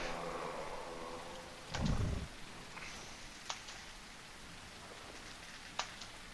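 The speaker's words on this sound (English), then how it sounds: "Didn't even hear him coming in the rain." Steady rain falls in a video game scene, a soft continuous patter with a few sharper drops and one brief low rumble, fairly faint with no voices.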